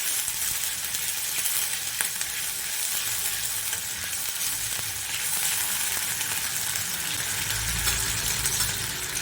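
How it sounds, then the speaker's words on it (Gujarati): Mustard seeds and cumin crackling in hot oil in a pan, a dense steady sizzle with scattered sharp pops and a low background rumble, continuous and close. "તેલ ગરમ મૂક્યું થઈ ગયું છે. રાઈ જીરું નાખીશું"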